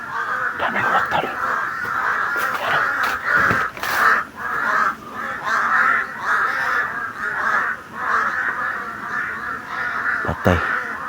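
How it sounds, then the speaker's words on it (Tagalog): A crowd of crows in a video game keeps up dense, continuous cawing, loud and overlapping, broken now and then by sharp clicks and thumps. "Ang daming uwak tol."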